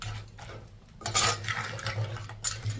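Spoon stirring crab curry with curry leaves in a pan, a continuous close scraping and rustling with a few louder clanks of utensil against the pan and a soft sizzle underneath.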